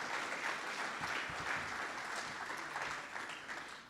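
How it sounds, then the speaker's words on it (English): Audience applause honoring significant others at a college athletics Hall of Fame induction, a steady dense wash of many hands clapping at moderate level throughout, fading slightly at the end. "we definitely need to give you a round of applause"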